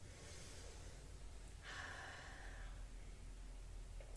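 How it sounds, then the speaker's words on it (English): One slow, deep breath drawn in and let out, soft and close, rising partway through and then fading, in an otherwise quiet room with no talking. "I remind myself to breathe. Oh, I'm going to do that again."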